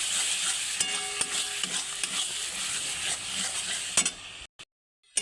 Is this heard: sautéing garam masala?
yes